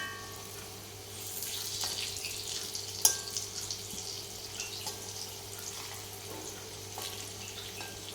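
Falafel frying in oil gives a soft, steady sizzle and bubbling at low volume, with occasional small pops and light kitchen clatter over a constant background hum.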